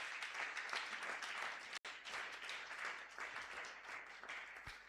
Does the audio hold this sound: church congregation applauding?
yes